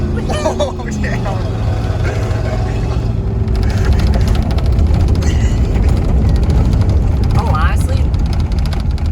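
Lifted Ford F150 truck crawling off-road in four-wheel drive, a steady loud engine drone with rattles and bumps while people talk and exclaim over it.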